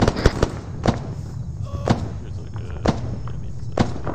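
Muffled gunshots in the video game Arma thud through a wall during a close-quarters town assault, five or six dull booming reports spaced about a second apart over a low background.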